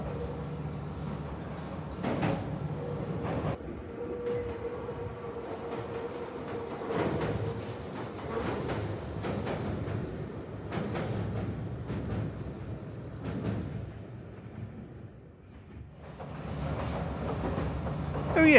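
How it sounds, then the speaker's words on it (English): A Medetai train on Wakayama's Kada Line rumbles across a bridge, a steady rolling roar with repeated rhythmic wheel clacks over the rail joints, heard from nearby as it passes. "Beary jumped on the train to Wakayamako, and I stayed behind to film him going over the bridge"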